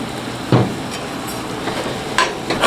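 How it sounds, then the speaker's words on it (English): Rice being stirred together with canned black beans, giving a few soft scraping knocks of a utensil against the container over a steady low background, close and fairly quiet with no voices. "So once we stir this up, it's got a lot of liquid in it"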